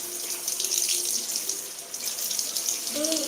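Water pours steadily from a tap and spills over the brim of a container, a continuous close splashing gush with a voice speaking briefly near the end.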